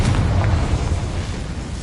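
The Confringo blasting spell explodes in Hogwarts Legacy as one loud, deep, rumbling boom that fills the whole short moment and tails off slowly.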